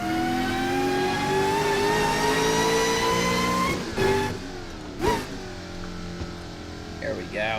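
A simulated car engine in a driving video game revs hard through a tunnel, climbing in a loud, sustained tone before easing off, with brief bumps and shifts near the end.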